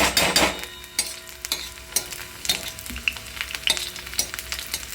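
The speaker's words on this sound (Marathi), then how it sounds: "आपला कांदा भाजत आलेला आहे" Onion fries in a pan for a vegetable dish, a soft sizzle punctuated by sharp, irregular clinks and scrapes of a spoon stirring against the pan.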